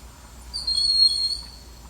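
A thin, high-pitched whistling bird call rings out once, drawn out for about a second over quiet background noise.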